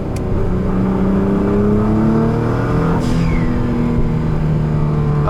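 A 2016 Nissan GT-R engine held at steady high revs for launch control, a loud, close drone inside the cabin with a faint rising whine near the end and no talk.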